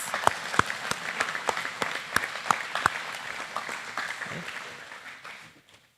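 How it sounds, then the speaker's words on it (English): A room of people at an FFA banquet applauds, with a few sharp, distinct claps standing out, before the clapping gradually thins and fades to silence. "Let's give them a final round of applause for their year of service."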